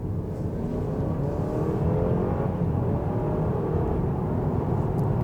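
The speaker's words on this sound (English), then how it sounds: "The hybrid motor does give a lot of acceleration right out of the gate here." A 2023 Honda Accord Sport L Hybrid pulls away hard, its steady motor and road drone holding loud and close from start to finish with no voices over it.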